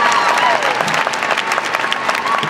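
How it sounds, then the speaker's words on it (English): A graduation ceremony audience applauds Master of Entertainment Industry Management students, a loud, dense wash of clapping filling the hall with a few faint voices mixed in. "Please join me in a round of applause for the Master of Entertainment Industry Management students."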